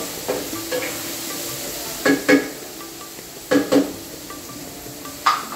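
Overnight-soaked, boiled chickpeas are stirred into a sizzling pan of taro greens. A steady hiss runs throughout, broken by close, paired clanks and scrapes of a spoon against the pan.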